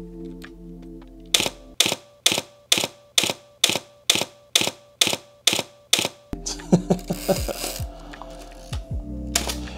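A Mamiya RZ67 Pro II medium-format film camera fires its shutter about a dozen times in steady rhythm, each a crisp close mechanical clack. Rattling, ratcheting clicks of the advance lever follow.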